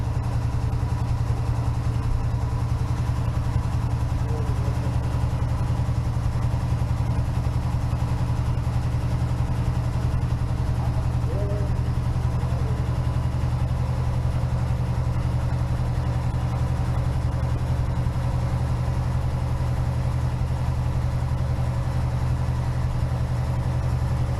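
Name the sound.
1969 Firebird engine running in neutral, wheels spinning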